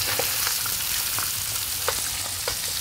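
Skin-on herring fillets fry in an oiled pan, giving a steady close hiss with scattered small pops and crackles throughout, no voices.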